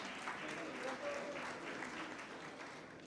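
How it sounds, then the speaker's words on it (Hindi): Sustained clapping from a seated audience at a national youth awards ceremony in India, a full, steady roar of hands that eases slightly toward the end. "जोरदार तालियों से इनका अभिनंदन करते रहें।"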